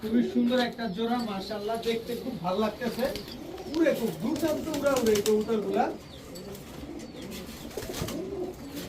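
A pair of bright red Chuishal high-flyer Giribaz pigeons coo in repeated low, throaty bursts close by, with a brief wing flutter and a voice talking over them.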